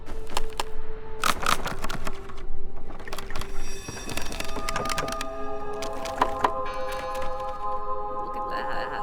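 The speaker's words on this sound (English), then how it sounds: "These boards are flimsy enough to break." Flimsy wooden boards breaking in the video game Draugen: a series of sharp cracks and splintering snaps in irregular bursts, close and loud, with creaking wood between them.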